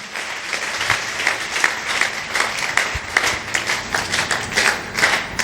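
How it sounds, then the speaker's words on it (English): A church congregation claps in worship, producing loud, fairly rhythmic clapping that pulses steadily throughout, with no speech on top. "Clap for Jesus Christ."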